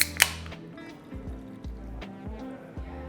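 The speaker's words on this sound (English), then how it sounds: "and then top with your sparkling grapefruit juice." Sparkling grapefruit juice is poured on top of a cocktail in a Collins glass over ice. A sharp clink comes first, then a soft trickle and fizzing pour that lasts a few seconds, close and fairly quiet.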